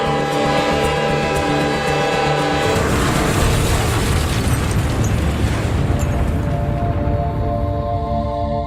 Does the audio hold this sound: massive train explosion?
yes